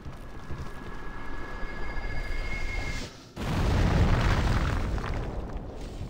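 A deep rumbling blast in the video game Demon's Souls erupts after a brief lull, following a steady low drone with thin ringing tones, then rolling on loudly before slowly easing.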